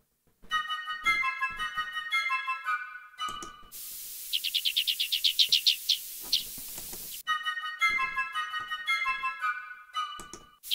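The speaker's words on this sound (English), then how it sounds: "the recording of the birdsong" Birdsong recording of bright, repeated whistled and chirping phrases in short bursts, with a middle stretch of rapid trilling notes against a steady hiss, clear and close.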